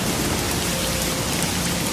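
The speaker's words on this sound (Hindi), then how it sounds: "बारिश तेज हो गई।" Heavy rain pours down steadily, a dense, even hiss of drops hitting surfaces that stays loud and constant from start to finish with no voices.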